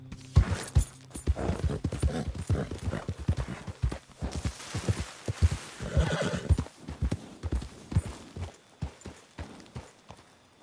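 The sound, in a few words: horse neighing and galloping in video game Red Dead Redemption 2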